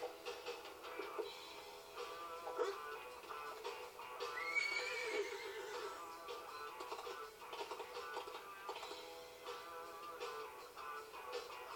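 A horse whinnies loudly over a busy, music-like Disney Infinity Wild West game soundscape, with hoofbeats clopping along in the background.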